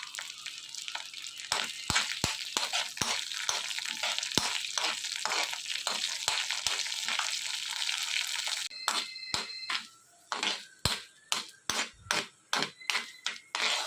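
Boiled red kidney beans frying in tempering oil in a pan, a steady loud sizzle with crackles that breaks into sharp clicks and clatter of stirring toward the end.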